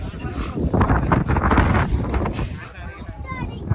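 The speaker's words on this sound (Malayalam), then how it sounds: "കാറ്റടിക്കണ എങ്ങനെയുണ്ട്?" Strong wind gusts across a misty hilltop at Ponmudi, buffeting the microphone in loud, rough roars that rise and fall throughout.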